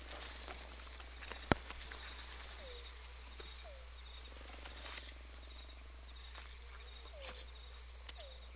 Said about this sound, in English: I'm starting to hear more animals now. Muskrats are in the area.